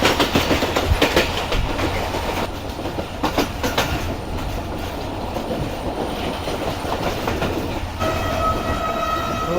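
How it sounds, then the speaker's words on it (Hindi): The Karakoram Express, running between Lahore and Karachi behind a GU40 locomotive, rolls past loud and close with heavy rumbling, rhythmic wheel clatter and a horn toward the end. "ये आ रही है सामने से लाहौर कराची के दरमियान चलने वाली 42 डाउन कराकरम एक्सप्रेस GU40 के साथ"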